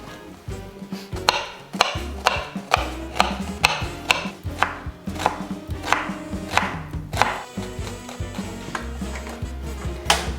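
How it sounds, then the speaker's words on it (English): A knife chops an onion on a cutting board in a steady rhythm of sharp, crisp thuds, close and alone, about ten strokes over several seconds. "And chop the onion."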